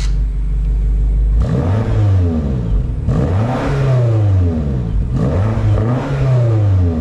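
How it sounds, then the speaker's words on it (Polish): A BMW X5 M engine revs hard in sport mode with loud exhaust roar, three rising sweeps separated by brief gear-shift drops, close and dominant with no talk. "Pytanie, czy to dźwięk wydobywający się naprawdę z wydechu"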